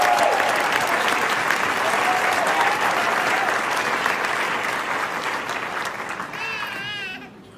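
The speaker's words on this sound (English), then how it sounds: "Give him a big round of applause." A live audience applauds a guest being welcomed on stage, dense steady clapping throughout that gradually fades, with a brief voice and some whistling or chatter audible near the end.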